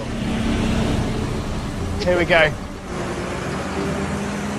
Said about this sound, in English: Love that tractor.